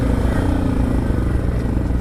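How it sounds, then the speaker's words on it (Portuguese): A motorcycle engine with its intake hose removed runs close by, a loud, throbbing low rumble with a rapid pulsing exhaust beat and slight rises as the throttle is opened. "Quando aparece o barulho é porque você tá acelerando mais"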